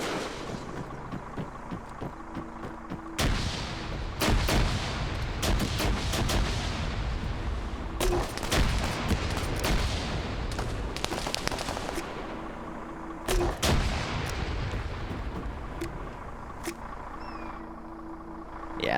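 Video game battle with sharp gunfire and artillery-like blasts hitting static defenses, irregular loud bursts and booms spread across a continuous noisy background of combat.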